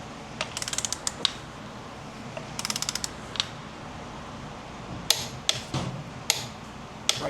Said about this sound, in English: we'll start torquing it down